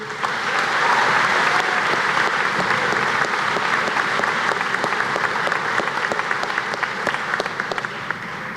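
At a high school graduation ceremony in Faribault, a big crowd applauds steadily, with many hands blending into a loud, sustained clatter and sharper individual claps standing out near the end.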